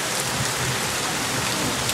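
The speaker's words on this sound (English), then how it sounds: "I just want to show the rain again." Steady, dense rain pouring down outdoors in July, a loud continuous wash of drops with no voices over it.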